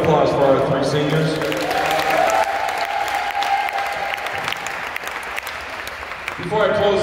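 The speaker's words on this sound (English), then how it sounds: "Big round of applause for our three seniors." Applause for volleyball seniors at a high school senior night, a crowd clapping steadily in a gym, with cheering and voices mixed in.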